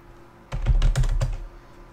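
A quick burst of keystrokes on a computer keyboard, about a second of close, crisp clicking between quiet stretches, with no talking.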